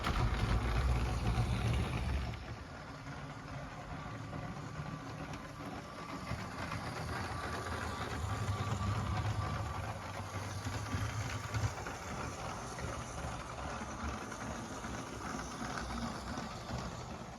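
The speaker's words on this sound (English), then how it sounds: "it's moving, at a decent speed and quite nicely across the rails there" LEGO Union Pacific locomotive pulling train cars along a plastic track layout, a steady low motor whir and rolling rumble running continuously and close, slightly louder at the start.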